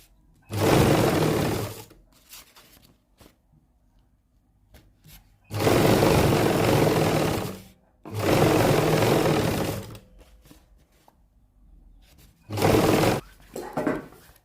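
An electric sewing machine stitches a salwar hem in four bursts of rapid whirring, each lasting a second or two, with quiet pauses and small handling clicks between runs.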